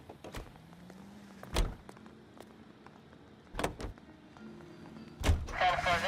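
A car in the 1940s Los Angeles setting of L.A. Noire, with a low engine drone running through, sharp door or mechanism thumps at intervals, and a brief whirring burst near the end.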